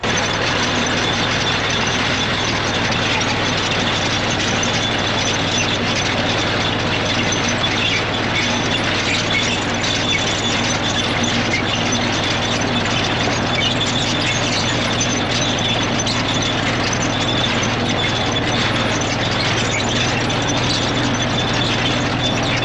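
A tractor-driven potato digger runs continuously through an onion field, a dense, loud mechanical roar with clattering chains and rattling that holds steady throughout, with no voices.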